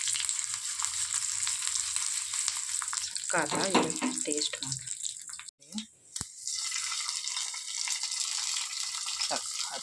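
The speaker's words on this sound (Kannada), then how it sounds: "ಇಂಗು ಮತ್ತು ಕರ್ಬೇವಿನ ಸೊಪ್ಪು, ಮೆಣಸಿನ್ಕಾಯಿ ಹಾಕ್ಕೊಂಡು ಒಂದು ಒಗ್ಗರಣೆ ಕೊಡ್ತಾಯಿದ್ದೀನಿ" Asafoetida, curry leaves and green chillies sizzle in a tempering for Udupi-style pineapple menasinkai: a steady, close frying hiss runs throughout, briefly broken by a few clatters. A person speaks over it midway.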